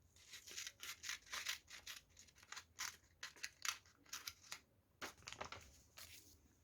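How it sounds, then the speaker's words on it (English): Scissors snip through a strip of litmus paper for a science exhibition experiment, a rapid series of faint, crisp cutting and rustling sounds at close range, with brief pauses between bursts. "I have to cut the litmus paper."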